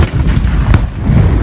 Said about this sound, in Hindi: फिर एक जोरदार धमाके ने समूचे काबुल की नींद उड़ा दी।